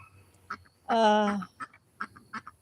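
A Muscovy duck gives one loud, drawn-out nasal call close by, amid soft clicks, rustles and brief bird sounds around it.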